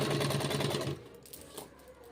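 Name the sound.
sewing machine stitching suit fabric edge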